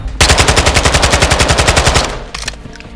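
KASTOV-74u rifle fire on a firing range in Modern Warfare 2: one loud, rapid automatic burst lasting nearly two seconds, then a couple of trailing shots.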